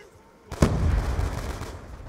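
A single loud gunshot blast from Call of Duty Black Ops 2 combat training bursts in after a quiet lead-in, its booming rumble and reverberant tail carrying on for over a second.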